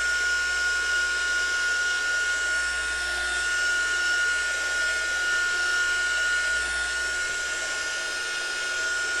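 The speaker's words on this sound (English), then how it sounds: "so let's just dry it quickly with my heat tool" A heat tool blows hot air to dry glue on torn paper pieces, producing a steady, close, whooshing fan drone with a thin whine that stays even throughout.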